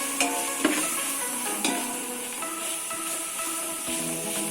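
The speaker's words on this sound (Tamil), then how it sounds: "இந்த மசாலாஸ்லாம் ஆட் பண்ணி நல்லா வதங்கணும்" Homemade chilli powder and coriander powder masala sautéing in oil for Madurai-style mutton biryani, a steady close sizzle with occasional stirring scrapes and clinks throughout.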